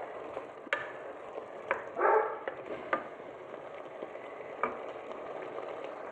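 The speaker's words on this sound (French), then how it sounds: "On va laisser encore mijoter environ 6 minutes, puis on va ajouter les tomates." Barkoukess stew simmering in a pot: quiet, irregular bubbling with scattered soft pops and crackles, no talking.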